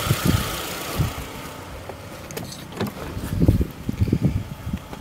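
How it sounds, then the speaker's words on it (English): A 2009 Toyota Camry engine running, a low steady rumble with uneven pulses and a few faint clicks, fairly close and alone with no talk. "Engine does run good."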